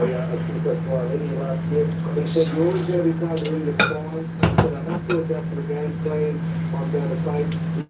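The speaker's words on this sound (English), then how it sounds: "I'm cleaning up my kitchen, I'm putting my dishes and stuff away now" Dishes and cutlery clink and clatter in a home kitchen as they are put away, with a steady appliance hum underneath and a voice talking over the clatter.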